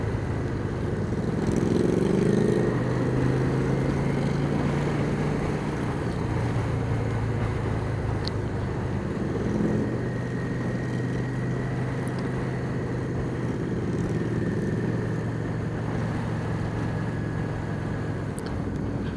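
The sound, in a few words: motorcycle engine rumble with slash-cut exhaust pipes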